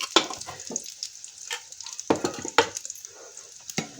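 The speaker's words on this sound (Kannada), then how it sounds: "ಹಾಕ್ಕೊಂಡು ಸ್ವಲ್ಪ ಈ ಥರ ಇದನ್ನು ಫ್ರೈ ಮಾಡ್ಕೋಬೇಕು. ನೋಡಿ, ಇದೊಂದು ಚೂರು ಫ್ರೈ ಆಗಲಿ." Curry leaves crackle and sizzle in hot oil in a pan for garlic chitranna, a quick burst of sharp pops and stirring scrapes, close and without talk.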